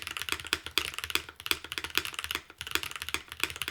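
Typing on a mechanical keyboard kit fitted with granite switches, a Smurve80: crisp, fairly quiet clacks in an irregular run of rapid keystrokes, close up, with no talking.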